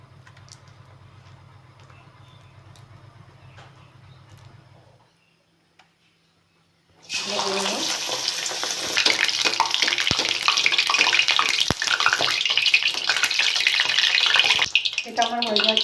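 Batter-coated pumpkin flowers dropped into hot white oil in a kadai, a loud steady sizzle that bursts in after a quiet stretch and keeps crackling densely to the end, following softer kitchen sounds.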